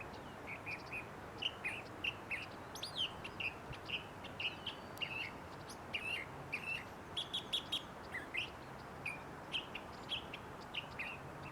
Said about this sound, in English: Got some white-crowned sparrows over here.